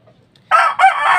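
A single rooster crow, loud and close, a short two-part call starting abruptly after a brief quiet moment.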